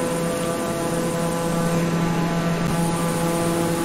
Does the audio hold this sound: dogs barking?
no